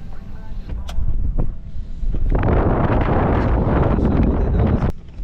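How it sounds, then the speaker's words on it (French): Strong gusting wind near a historic Quebec forest fire buffets the microphone, with a few sharp knocks early on, then a loud, continuous rushing roar from about two seconds onward that eases off just before the end. "Mais là, il y a des vents. Les rafales sont à 45 km/h."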